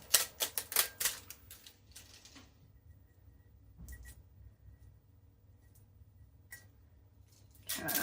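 Shrink wrap is torn off a sublimation tumbler after it comes out of a craft oven, with a quick flurry of crinkly ripping bursts at first, then sparse faint rustles and a final crackle of plastic.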